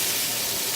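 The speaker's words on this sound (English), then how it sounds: "You definitely want to hear that crack, sizzle, and pop" Steady, dense sizzling hiss of hot oil in a pan before steaks go in, close and continuous with no talk over it.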